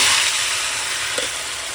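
Mutton added to hot oil spiced with bay leaf for a mutton korma, giving a loud continuous sizzle with a faint clink partway through.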